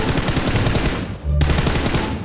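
Rapid automatic gunfire from a PUBG Mobile firefight hammers out in dense, loud bursts, breaking off briefly before resuming just as heavily.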